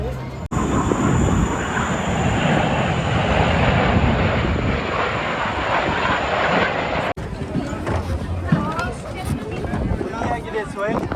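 A loud, steady jet-engine roar fills most of the clip, then cuts to a rougher rumble of crowd and wind noise as an aircraft passes, flying inverted at the Bahrain International Airshow 2024.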